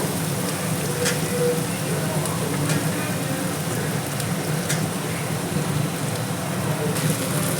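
Capsicum, onion and other vegetables frying in a pan for egg fried rice, a steady crackling sizzle running throughout with faint occasional clinks.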